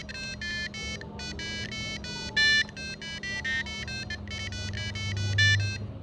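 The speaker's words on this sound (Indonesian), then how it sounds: "Ini adalah nada dari Ice Cream Waltz" A programmed buzzer wired to a microcontroller pin plays the Ice Cream Waltz melody as a steady run of bright electronic tones, each note clearly separated, with a faint low hum beneath.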